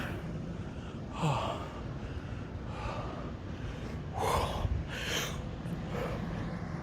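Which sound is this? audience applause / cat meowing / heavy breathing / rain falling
heavy breathing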